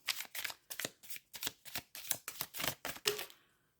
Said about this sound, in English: then I get a couple more shuffles in